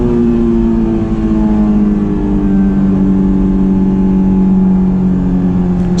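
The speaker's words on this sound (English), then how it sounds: "And you see how loud second gear is." A Honda S2000 engine revs loudly and steadily in second gear, pitch climbing gradually as it nears the top of the gear, heard from inside the cabin.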